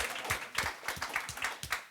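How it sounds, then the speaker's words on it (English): An audience at a conference game session breaks into applause for the winner, a steady patter of clapping from a modest crowd throughout. "Round of applause for everyone, for Chris."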